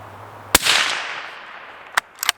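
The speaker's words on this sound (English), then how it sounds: "You still have a heck of a supersonic crack, but it shouldn't be too bad." A Ruger American Scout rifle fires once, a sharp supersonic crack with a long fading tail, followed by two or three faint ticking impacts or clicks.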